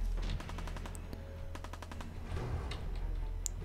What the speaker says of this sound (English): Yeah, that's the pistol of this guy.